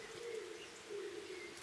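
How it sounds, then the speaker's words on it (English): Soft cooing calls repeat in the background, two low hooting phrases set apart, faint and distant in a quiet outdoor game setting with no talk. "You hear that owl cooing in the background?"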